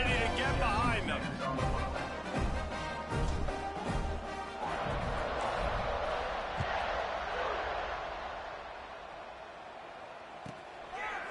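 Stadium crowd in a college football video game, Arkansas versus Georgia, roars steadily and fills the space, with a commentator speaking over the opening seconds before the noise slowly fades.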